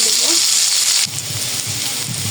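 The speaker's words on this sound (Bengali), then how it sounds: "আলুগুলো ভেজে নেব। ভাজা হয়ে গেছে, এখন এই যে লবণ দিয়ে দেবো।" Potatoes frying in a pan give a close, hissing sizzle that drops after a brief clatter, then continues more softly with low bubbling underneath.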